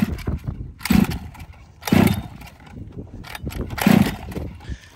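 Gas-powered 7.5 hp HPI Baja 5B SS RC car engine being pull-started, three loud close rattling pulls a second or two apart, with the engine sputtering briefly between them, no talk.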